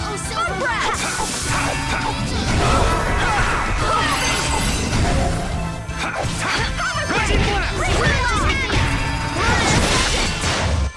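Repeated smashing and whipping hits from combat in the video game Tales of Vesperia, dense and loud over busy game music and effects throughout.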